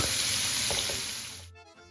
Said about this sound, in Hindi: तो अब इसी ऑयल को मैंने दोबारा हल्के से गर्म करके उसमें इस प्याज को डालना है